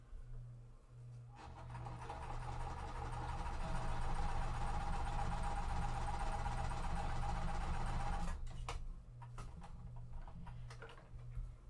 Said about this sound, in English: So that way I can now sew my step 2, the right hand side, lining these up together